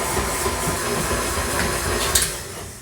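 An electric mixer running on low speed through coffee cake muffin batter, a continuous steady whir with a rough, slightly rattling texture, close and fairly loud, tapering off at the end; no talk.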